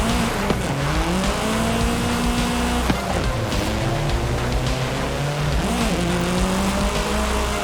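Car drifting up a mountain touge road in Forza Horizon 5, with a steady, loud engine drone rising and falling in pitch through gear changes and tire slides, heard alone without talk.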